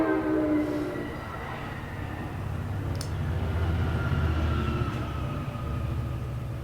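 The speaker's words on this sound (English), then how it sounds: "I'll let that train go by before I answer that." A train rumbles past close by, a steady heavy low roar with rail noise lasting throughout and a brief sharp high squeal partway through, no voices.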